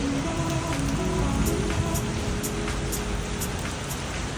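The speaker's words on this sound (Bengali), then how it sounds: "সকাল সাড়ে পাঁচটার থেকে এত জোর আওয়াজ হয়ে বৃষ্টি হচ্ছে যে ঘুম ভেঙে গেছে" Heavy early-morning rain at the seaside resort of Mandarmani pours down in a steady, dense hiss of drops hitting surfaces, loud and unbroken with faint background hum and no talking.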